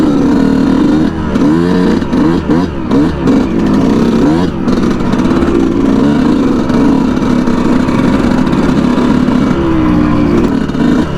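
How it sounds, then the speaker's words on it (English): A Yamaha YZ125 two-stroke dirt bike on a sandy beach, its engine loud and close, revving in rising and falling bursts early on, then holding a buzzing, raspy drone. "See if Eric can start his bike."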